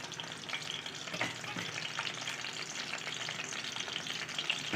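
Eggs fry in a pan with a steady, close crackling sizzle that runs unbroken from start to finish at moderate loudness.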